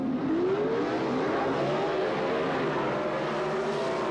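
Pro Stock drag racers, a Chevrolet Camaro among them, roar at a 1978 NHRA Gatornationals meet, engines howling with rising pitch in a sustained, somewhat distant blare without talk.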